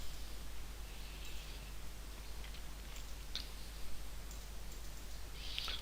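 Computer mouse double-clicks on a PC while working in the WinDev environment, a few faint, sharp ticks spread over a quiet hiss, close and isolated with no talking.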